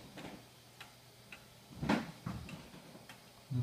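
A five-foot antique hunter's trophy cuckoo clock from around 1900, with carved stag head and wooden antlers, ticks in a steady, evenly spaced rhythm, moderately close and fairly quiet, with a faint background hum and no talking.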